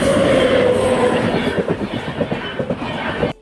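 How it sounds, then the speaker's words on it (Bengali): A train rolls past close by, loud and continuous, with a rhythmic clickety-clack of wheels over rail joints building up as the cars go by; no voices. "আমরা যখনই যাই একটা ট্রেন দেখতেই পাই।"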